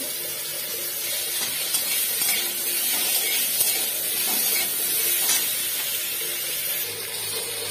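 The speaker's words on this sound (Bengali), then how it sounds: "এবার ওই একই তেলের ভিতরে আলুগুলিকে ভেজে তুলে নেব।" Potatoes frying in oil with salt and turmeric, heard as a steady, loud sizzling hiss that holds evenly throughout with no talking.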